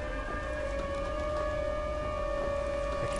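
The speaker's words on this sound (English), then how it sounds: "I love that siren sound." A steady tornado warning siren wails in a Minecraft modpack, a sustained multi-tone drone holding constant and loud with no talk over it.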